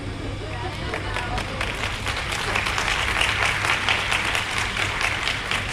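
A room of students claps together on request during a teachers' talk, steady continuous applause with crowd murmur throughout, fairly close and sustained.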